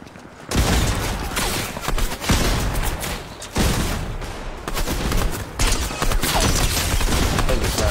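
Rifle gunfire in Apex Legends, a dense near-continuous fusillade of loud shots in bursts with brief pauses between volleys, dominating the clip from start to finish.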